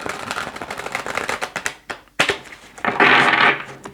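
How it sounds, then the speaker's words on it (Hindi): Tarot cards being shuffled by hand, a close series of quick riffling and flapping bursts with brief pauses and a louder sustained riffle near the end. "ओके चलो शफल करते हैं।"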